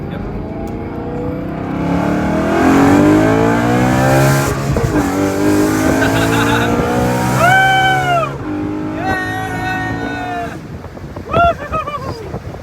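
A straight-piped BMW E93 M3 with OEM muffler accelerates past, a loud raspy exhaust climbing through rising revs, with gear-change dips and a sweeping flyby, then fading with a final short rev burst.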